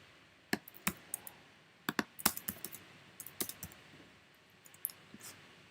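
JavaScript code being typed on a computer keyboard: close, crisp keystrokes come in irregular bursts and short runs, with brief pauses between them and no voices.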